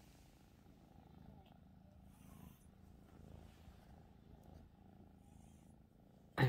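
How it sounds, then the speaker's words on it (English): A cat purrs softly in a low, steady rumble that continues throughout, faint and close, with light background noise. "I don't know if you can hear her purring"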